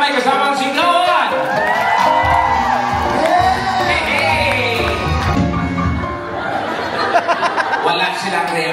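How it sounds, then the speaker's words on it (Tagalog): A lively live-show audience cheers, whoops and shouts with laughter mixed in, a dense, energetic crowd sound that carries on for several seconds before thinning into scattered calls near the end. "Palakpakan na may kasamang sigawan!"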